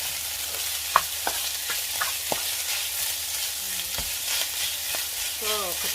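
Fried rice with fermented pork and ground salt is stir-fried in a pan, giving a steady low sizzle broken by scattered spatula clicks and scrapes, fairly quiet and close.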